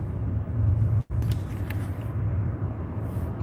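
Road rumble heard from inside a vehicle coasting through heavy traffic. A continuous low drone is briefly cut by a split-second dropout, then carries on steadily.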